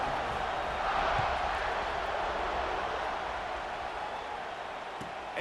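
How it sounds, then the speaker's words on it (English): Stadium crowd buzzing in the NCAA 26 college football video game after a score, a dense continuous roar of distant voices, steady and fairly loud, with faint commentary-like murmur underneath. "this crowd is buzzing after that last score"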